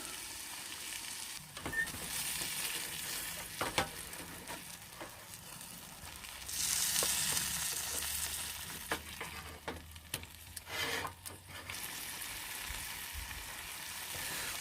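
Salmon fries in a pan outdoors beside a camper van, a steady close sizzle with scattered sharp crackles and stirring bursts, swelling louder midway as the fish shifts in the hot oil.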